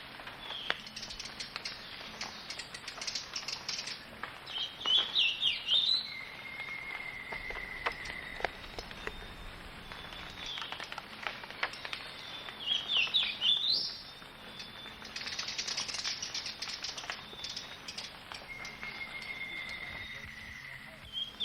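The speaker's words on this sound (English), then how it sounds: "His melodious song ends on an up note. We hear him as we take the trail to the Back Plaza." A golden-crowned warbler sings in the Belize jungle near Maya ruins, two bright, short, up-ending song bursts separated by quiet stretches, over a constant buzz of insects and faint high whistles.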